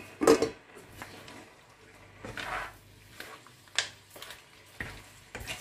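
Macaroni with seafood being stirred in a pan, a few soft scraping and clattering strokes spaced a second or so apart against a quiet background.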